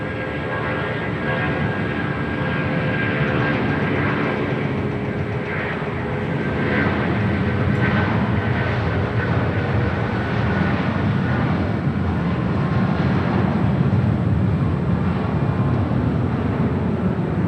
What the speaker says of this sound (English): Next departure on 25 right. United Airlines flight 1862 heading to Newark. It's a 757-200.